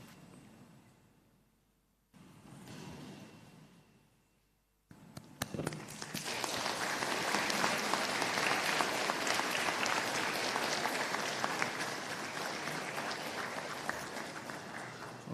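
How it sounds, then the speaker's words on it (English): After a few quiet seconds of faint rustling, a large crowd at a university convocation bursts into sustained, loud applause that continues steadily to the end. "give a good round of applause in appreciation of their unwavering support"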